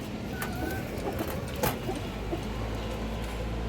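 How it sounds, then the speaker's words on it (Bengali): A large, lively black-necked female pigeon coos softly amid steady low background noise, with a few brief louder bursts and no talking. "একটা কালো গলা মাদি কবুতর"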